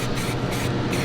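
A light coat of SEM Trim Black aerosol paint hisses steadily from a spray can at close range, one continuous even burst.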